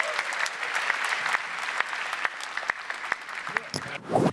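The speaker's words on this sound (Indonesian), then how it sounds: "Tolong tepuk tangan dulu untuk Dani." Studio audience applause at a stand-up comedy competition show, a dense, steady clapping from a large crowd that holds for several seconds before a voice cuts in at the end.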